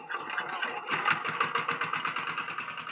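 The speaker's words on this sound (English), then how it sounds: "There is a mechanical slurry pump driven by diesel engine and now is getting ready to be" A diesel engine drives a mechanical slurry pump at a drilling site for a manual SPT borehole, producing a steady, close, rhythmic mechanical chugging that holds at a constant level throughout.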